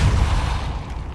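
Depulsor spell cast in the video game Hogwarts Legacy, a loud, dense low-frequency magical burst with a booming thump that holds steady, then tails off over about a second.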